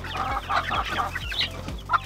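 Baby chicks peep and cluck in a busy, overlapping chorus close by, with a low rhythmic thumping underneath and no talk.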